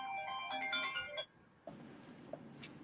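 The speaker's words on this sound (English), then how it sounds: "I got a phone call." A phone ringtone plays an incoming-call melody for over a second, then stops. Soft room noise and faint clicks follow, all at low level.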